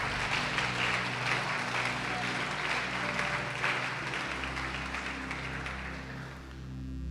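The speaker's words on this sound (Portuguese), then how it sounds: "Você pode aplaudir o Senhor Jesus." Applause fills a church congregation in honor of the Lord Jesus, a steady wash of clapping with a low hum and organ-like tones beneath, fading slightly toward the end.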